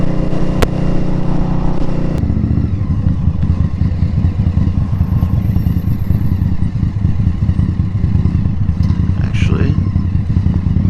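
A 2018 Indian Scout Bobber motorcycle rides through traffic on the way to a ferry, its steady engine drone and wind rumble continuous and close, with a brief clatter near the start.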